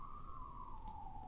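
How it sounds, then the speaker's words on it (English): An emergency vehicle siren passing outside, a steady wailing tone held across the whole moment and sliding slowly downward in pitch, moderately loud against a constant background hiss. "Sorry about that siren."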